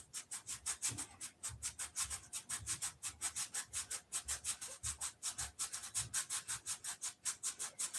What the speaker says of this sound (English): So I just take a sandpaper roll here,